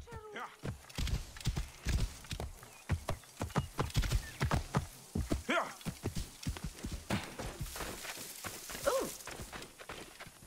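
Horse hooves clip-clopping at a walk in the game Assassin's Creed Origins, a steady series of sharp hoof knocks close by, with a whinny partway through and voices talking over it.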